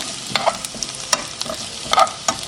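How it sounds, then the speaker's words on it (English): Carrots sautéing with garlic in a hot pan give a soft, steady sizzle broken by several light scrapes and clinks of stirring, close and moderately loud, with no talking. "carrots are still sauteing"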